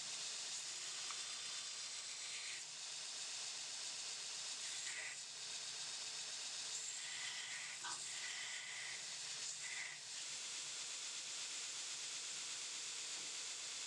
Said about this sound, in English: still with a coarse grit belt, now I'm going to bring in the thickness of both sides of the scale